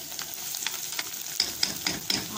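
Onion sizzling and being stirred in a pan while cooking freekeh with steak, a steady low fry with a few sharp spoon scrapes and clicks near the end, no talking.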